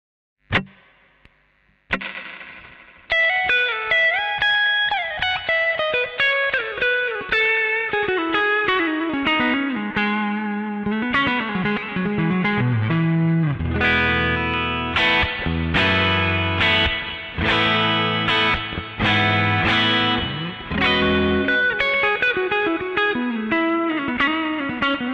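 Electric guitar played through a reverb pedal: after a couple of isolated plucks, chords and single notes ring out with long washy decay, sustained tails overlapping into a dense, shimmering wash.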